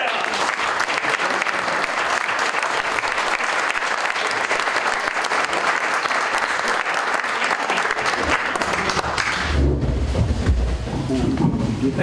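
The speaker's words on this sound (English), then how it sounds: "Please put your hands together and join me in welcoming Mr." Audience applause welcoming author John Sayles at a library event, a dense sustained clapping from a sizeable crowd that carries for about ten seconds before thinning out, with some voices mixed in.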